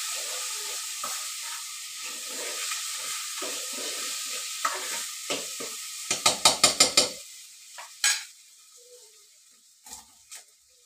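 Curry leaves fry in hot oil in a pot on a wood-fired stove, giving a steady sizzle and hiss with a quick run of sharp crackles and pops midway, then fading to scattered spits.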